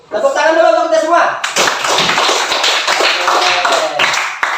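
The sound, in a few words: class applauding everyone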